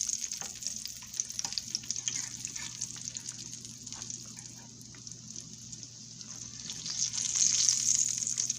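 Sweet potatoes fry in a pan with a constant bright sizzle, close and steady, rising louder near the end, with faint occasional scraping as they are moved around.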